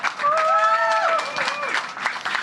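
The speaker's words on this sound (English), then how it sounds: "So a big round of applause to my wife, Mai." Applause at a hotel opening celebration, with a crowd clapping steadily and fairly loudly while voices call out over the top.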